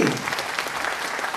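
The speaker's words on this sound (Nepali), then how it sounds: "हाम्रो कम्पनी मलेसियाकै सबभन्दा top leader gold crown diamond mister लिगिकाउ and सिम्पोमिनलाई जोरदार ताली एकचोटि।" A seminar audience at a DXN event in Dubai breaks into loud, continuous applause, a dense wash of many hands clapping that fills the whole short moment.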